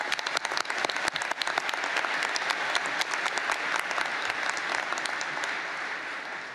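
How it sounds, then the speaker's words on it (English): Audience applause follows a climate protester's remarks at a COP climate summit, a dense, steady clapping that stays loud and continuous throughout, with sharp individual claps standing out over the crowd. "And let's give her another round of applause."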